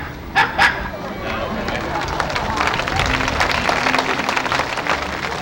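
A stage performer at a 1978 island revue imitates a dog's bark with a few short vocal yaps, followed by steady crowd noise and applause filling the rest of the moment.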